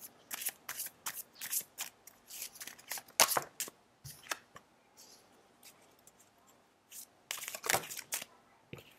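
Tarot cards are shuffled by hand in quick, crisp bursts of riffling and flicking, close up, with brief pauses between rounds.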